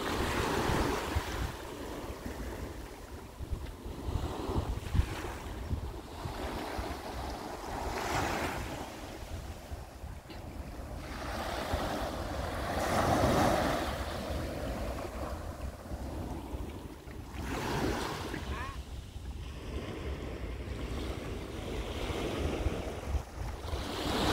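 Sea waves breaking at Barceloneta beach in Barcelona, a continuous wash of surf swelling and receding, with wind buffeting the microphone and no talk.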